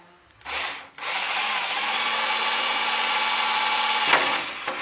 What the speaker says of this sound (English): And a drill, and probably right there.